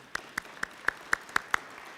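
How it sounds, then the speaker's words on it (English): Seven sharp, evenly spaced claps at a Toledo Rotary meeting as a guest enters, fairly faint and thin, sounding like only a few hands in a quiet room. "let's give her a round of applause when she comes in"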